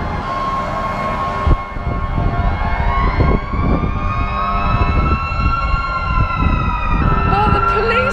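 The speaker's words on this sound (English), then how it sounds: "the police sirens are going off to mark midnight" Police car sirens wail together at midnight on New Year's Eve, several overlapping tones sweeping slowly up and down. They sound fairly loud outdoors, a sharp knock comes early, and a voice speaks faintly underneath.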